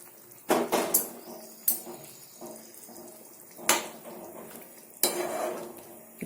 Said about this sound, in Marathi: गरम पाणी टाकून घेऊया